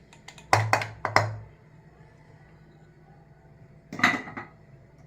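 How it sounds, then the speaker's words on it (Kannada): A few metal clinks from a steel spoon or vessel while mustard-seed tempering is added to a kosambari salad: two quick knocks near the start and another clatter near the end, close and moderately loud, with a quiet room between them. "ಇವಾಗ ನಾನು ಒಗ್ಗರಣೆ ಹಾಕಿಟ್ಕೊಂಡಿದ್ದಲ್ಲ ಸಾಸಿವೆ ಮಾತ್ರ ಅದನ್ನು ಹಾಕಿಟ್ಕೊತೀನಿ"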